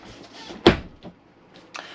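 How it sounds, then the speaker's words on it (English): The toilet door of an Auto Trail Tracker RB motorhome is slid shut with one sharp close knock, followed by a couple of faint clicks nearby. "So this is the toilet door, or you can use it as the washroom door or the bedroom door to black out from the front to the back."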